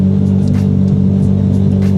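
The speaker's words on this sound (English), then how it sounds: "So just running the car for 30 minutes." A Ford Mustang Mach 1 engine idles steadily, a constant low rumble close by with no talk over it.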